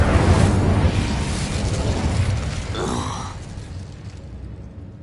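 Incendio fire spell cast in Hogwarts Legacy on PS5, a broad whooshing burst of flame that roars and slowly fades, with a brief strained grunt partway through.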